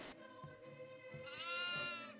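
A goat bleats in the horror video game Devour, a wavering, nasal cry rising over a steady background game drone and music, moderately loud.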